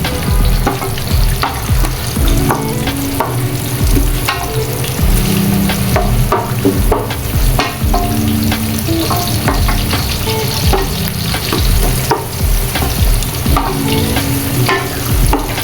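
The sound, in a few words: onions frying for birista on high heat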